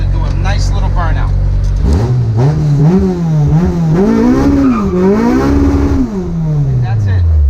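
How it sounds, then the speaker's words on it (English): A car engine revs hard in first gear while preloading, rising and falling in pitch, then breaks into a short tire burnout with squealing rubber, all loud and close. "first gear, you'll see me preload, and then I'll just let it do a nice little burnout."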